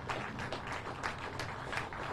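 Crowd applause at an outdoor groundbreaking ceremony, steady even clapping from a modest audience throughout, with no speech over it.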